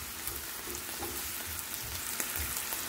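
Onion sautéing in a pan with a steady, even sizzle and faint stirring scrapes running throughout, fairly close and with no voices over it.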